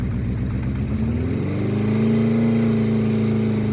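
A 1975 Honda CB400F Supersport four-cylinder motorcycle cranks and fires up, its engine catching and settling into a steady, loud idle on choke, recorded close by.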